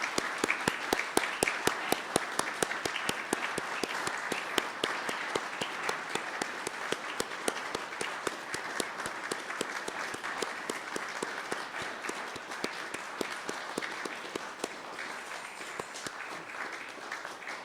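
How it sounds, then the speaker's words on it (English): A club's members stand and applaud an honorary member named Barry, long sustained clapping from a sizeable crowd with sharp individual claps standing out, gradually easing slightly toward the end. "give a big round of applause to Barry"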